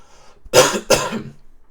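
Two harsh, explosive coughs in quick succession, close and loud, with a short throaty rasp trailing after the second.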